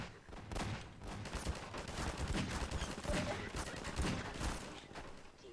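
Gunfire in a video game: rapid, repeated bursts of shots crackle through a steady, fairly loud barrage, with no voices heard over it.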